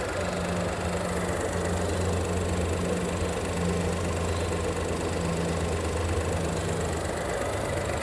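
A Proton X50 three-cylinder engine idles steadily with a low, even hum and faint mechanical vibration, close by and continuous, with no talking.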